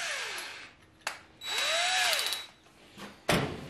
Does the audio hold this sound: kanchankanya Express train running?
no